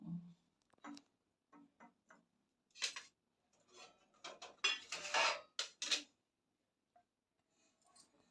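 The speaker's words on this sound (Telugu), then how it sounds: "ఓకే, మూత పెట్టే మమ్మీ." Metal pots and dishes clink and clatter up close in a home kitchen as a lid goes onto a pot. Sharp, scattered knocks and scrapes come in short bursts separated by quiet gaps.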